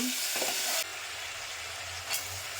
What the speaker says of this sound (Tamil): நல்லா இந்த கொட்டை வந்து கொஞ்ச நேரம் எண்ணெயிலேயே வதங்கணுங்க